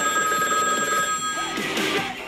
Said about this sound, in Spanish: si en tu casa suena el teléfono insistentemente?